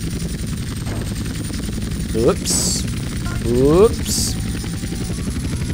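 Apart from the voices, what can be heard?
helicopter flying in video game GTA San Andreas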